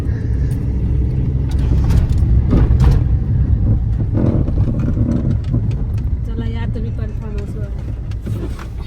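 A car drives off, its engine rumbling low and steady throughout as people talk over it nearby.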